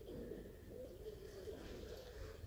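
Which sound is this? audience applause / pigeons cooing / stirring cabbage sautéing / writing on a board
pigeons cooing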